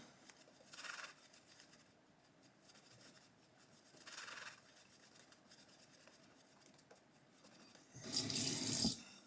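Razor strokes from a Wolfman WR2 1.00mm copper safety razor on a final third pass against the grain, heard as soft, faint rasping bursts spaced a few seconds apart, ending in a louder, closer scrape.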